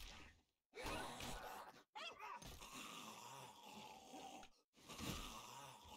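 Dog growling and yipping in the survival game 7 Days to Die, Darkness Falls mod, a close, continuous snarling with brief gaps and whimper-like breaths, without speech.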